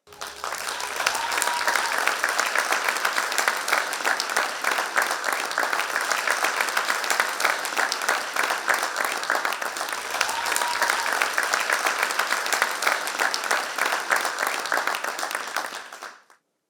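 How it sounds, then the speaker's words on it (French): A youth event audience applauds a performer in a long, steady, dense ovation that holds full strength for about sixteen seconds before cutting off abruptly. "Merci d'applaudir Renaud Laferrière."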